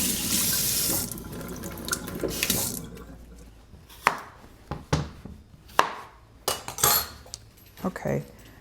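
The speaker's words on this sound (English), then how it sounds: "the English cucumber, making sure it's nice and washed" An English cucumber washed under a running kitchen tap in a sink, a steady stream of water at first, then broken splashing and a few light knocks and clatters close by.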